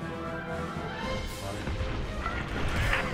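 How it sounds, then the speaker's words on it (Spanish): Standard laser cannon firing in the Star Wars Squadrons space combat video game, heard as dense, rapid blasts over a continuous rumbling engine background. "Cañón láser estándar."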